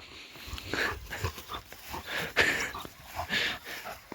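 A dog snuffles, pants and whimpers close by during a walk, in short irregular bursts with rustling and movement noise, no talk.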